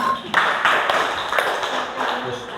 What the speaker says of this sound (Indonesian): tepuk tangannya buat Pak Andi